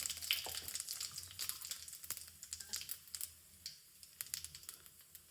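Asafoetida and whole spices such as bay leaf, dried red chili and cumin sizzle in hot oil, a steady crackling fry with quick popping spatters and a few light stirring clicks.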